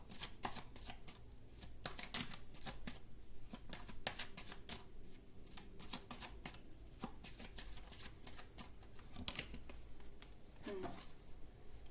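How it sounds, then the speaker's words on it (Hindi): Tarot cards being shuffled and drawn from the deck by hand, a continuous soft papery riffling and flicking with sharp little snaps, quiet and close, running steadily throughout. "मैं एक और कार्ड निकालती हूँ।"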